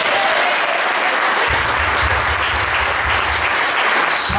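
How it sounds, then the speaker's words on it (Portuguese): A church congregation applauds during a Brazilian evangelical service, a dense loud wash of clapping throughout, with a low rumbling hum that enters partway and continues beneath it. "Dê uma salva de palmas ao Senhor Jesus."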